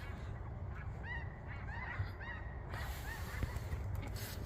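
Several geese honk in short, wavering calls, moderately distant and not very loud, over a steady low outdoor rumble.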